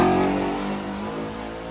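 An S10 race car engine at an outlaw racing night, a loud nearby revving drone that holds steady and then eases slightly in pitch and volume.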